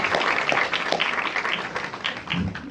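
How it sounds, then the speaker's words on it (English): Audience applause for a guest doctor at a talk on sickle cell, a dense steady wash of many hands clapping close by, sustained evenly throughout with no talking over it. "Ladies and gentlemen, Dr. Kofi Annie, big round of applause"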